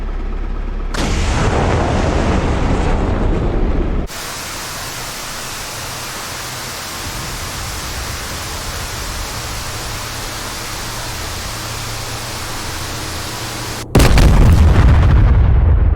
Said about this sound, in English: Python is just firing harms right now to SA-6